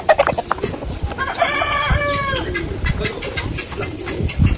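Roosters on a farm clucking and crowing, one drawn-out crow in the middle framed by choppy clucks and scratchy background noise, fairly loud and close.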